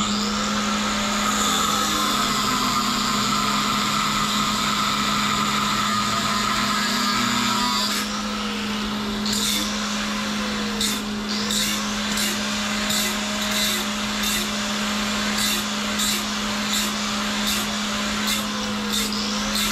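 An angle grinder or cutting tool slicing through the tie rod end of a DIY wheelbarrow go-kart, a loud continuous whine that shifts pitch as it bites, followed by a series of sharp rhythmic metallic taps, close by.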